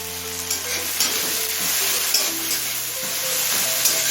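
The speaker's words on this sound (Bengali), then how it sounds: "এবার টমেটো নরম হয়ে আসা পর্যন্ত ভেজে নেব মিনিট তিনে হাই ফ্লেমে ভেজে নেবে" Tomatoes, with crushed cardamom, cinnamon and cloves, fry over a high flame, a dense continuous sizzle with light stirring knocks, close and unaccompanied by speech.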